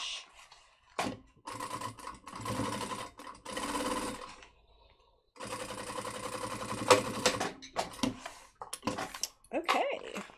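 A home sewing machine stitches a pattern piece in two rapid, steady runs separated by a short pause, the mechanical whir fairly close and loud, with someone talking intermittently around the stitching.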